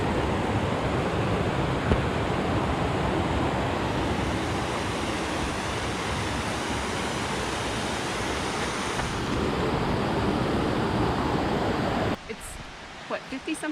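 Creek rushing beside a hiking trail on the way to Rainbow Falls, a loud, steady broadband wash of flowing water lasting a long stretch before it drops away near the end.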